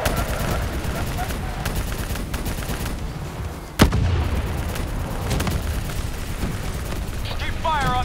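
Heavy gunfire and turret fire in the Call of Duty: Black Ops 3 video game rattle in sustained loud bursts with a sharp blast midway, while voices shout over the combat.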